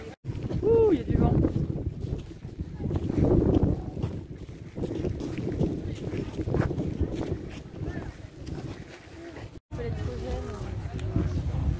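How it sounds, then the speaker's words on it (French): Strong outdoor wind buffets the microphone near a castle, a loud rumbling gusty roar that runs almost throughout, with people talking over it. "Ouh, il y a du vent."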